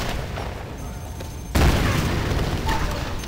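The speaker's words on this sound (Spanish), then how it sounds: "pero cuántas explosiones hay aquí" Tomb Raider multiplayer match: a heavy explosion booms suddenly partway through, following a stretch of steady rumbling background noise, loud and close with a dense roar afterward.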